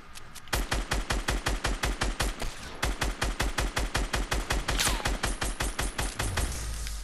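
Rapid automatic gunfire in a Fortnite Battle Royale squads match, loud bursts of evenly spaced shots hammering away for several seconds in a steady rhythm with a short break midway.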